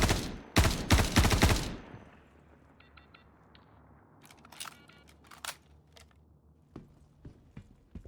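Enemy gunfire in Star Citizen at a derelict outpost in extreme weather: a loud, close volley of shots, then quieter scattered cracks and metallic clicks over a low rumble.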